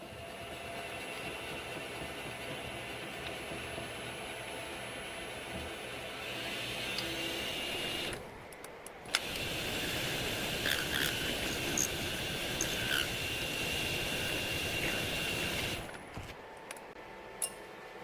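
A lathe turns a buff tip for buffing work, a steady close mechanical hum with a high whine that briefly dips around the middle, then resumes and drops again near the end.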